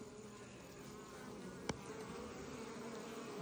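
Honeybees defending their hive against a yellow jacket, a dense, steady buzzing swarm close by with one brief tap partway through.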